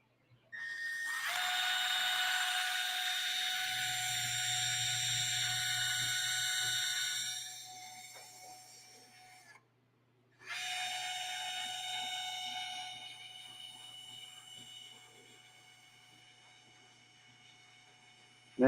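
A screw gun on a dent-pulling rig for a Ram 1500 bedside spins up with a steady, high mechanical whine for about eight seconds, cuts out briefly, then whines again for another eight seconds. No one speaks.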